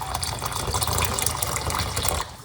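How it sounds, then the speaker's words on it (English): Water pouring steadily into a container of rosemary, garlic, ginger and cloves for tea, a continuous close splashing gush that cuts off near the end. "we're gonna pour a little bit more water on this."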